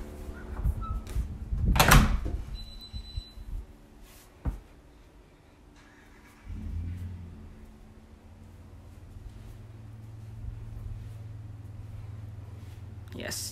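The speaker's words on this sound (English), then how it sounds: "Gonna close this door." An interior door in a modern one-bedroom laneway home with carpeted upstairs is pushed shut, giving one sharp, close thud near the start, followed by a quieter knock and then a low room hum.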